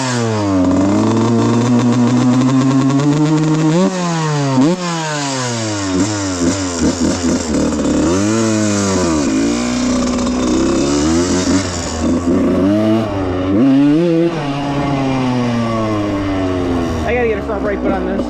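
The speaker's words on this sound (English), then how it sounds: "There's some pure two-stroke sound right there." A 1995 Suzuki RM125 two-stroke motorcycle screams at speed, loud and close, its engine note rising and falling in repeated sweeping revs as the rider shifts and throttles, continuous throughout with no talk.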